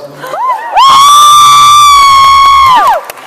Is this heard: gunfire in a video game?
no